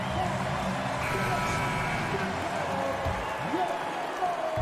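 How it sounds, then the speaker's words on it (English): Sustained applause from a large arena crowd at a basketball game for a youth dance team, steady and dense throughout, with faint voices mixed into the din. "Please give a big round of applause for your Grizzlies Youth Dance."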